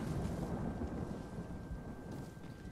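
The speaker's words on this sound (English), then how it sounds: "And a thunderstorm to make it perfect." Thunderstorm with rain in the video game Ghost of Tsushima: a dense, steady roar of rainfall with deep rumbling thunder underneath, loud and continuous with no talking.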